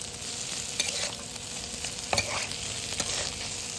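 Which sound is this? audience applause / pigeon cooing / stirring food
stirring food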